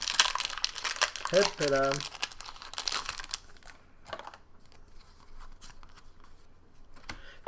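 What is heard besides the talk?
opening a Magic: The Gathering M15 booster pack wrapper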